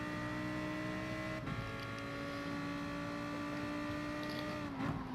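A race car engine in a racing video game holds a steady droning pitch on the Dragon Trail Gardens circuit, then drops as the car brakes for a corner, a continuous close engine tone throughout.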